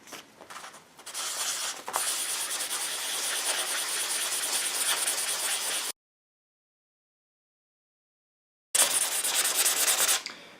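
A leather-working spoon tool, a repoussé tool, being sharpened on coarse 500 to 800 grit abrasive, a close, steady rasping scrub that stops for a few seconds of silence before the rubbing resumes.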